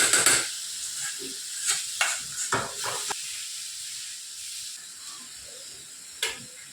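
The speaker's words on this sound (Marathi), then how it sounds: "आता छान मस्त आपल्याला हे परतून घ्यायचं आहे." Smoky mashed brinjal bharit mixture with salt being stir-fried in a pan, a soft hiss with a few scraping stirs early on that fade to a quiet sizzle.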